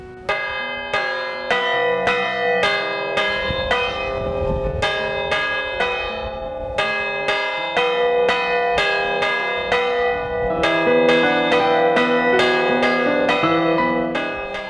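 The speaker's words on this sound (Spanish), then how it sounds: "Mientras una campana siga sonando, un pueblo seguirá viviendo." Church bells ringing in a Spanish village, a loud, close, steady sequence of bright overlapping strikes with long decaying resonance, about two dozen peals in quick rhythm.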